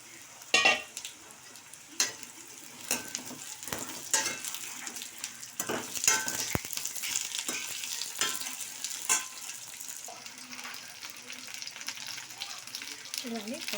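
Drumsticks (munakkaya) frying in oil in a pan for a chicken egg curry, giving a steady crackling sizzle with sharper pops and stirring clatter close by.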